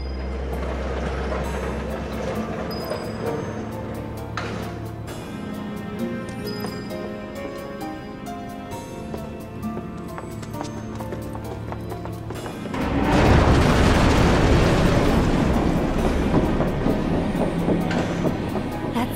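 Inside a Sector 7 slums-bound train car in Final Fantasy VII Remake, a steady low rumble of wheels with faint rhythmic clacking runs throughout, swelling louder and harsher in the last stretch as the car picks up noise.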